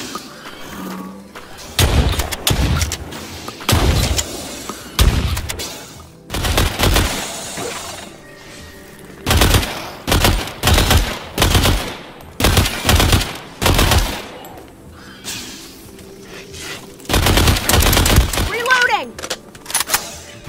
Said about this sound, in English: making the weapons sound big and punchy and exciting